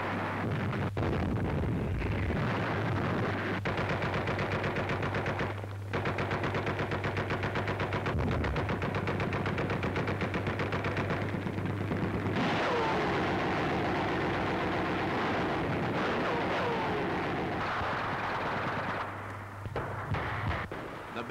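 Artillery bombardment of Aachen in a 1944 wartime newsreel: a sustained roar of heavy guns and blasts, dense and continuous throughout, with rumbling low booms and bursts of crackling fire, no talk over it.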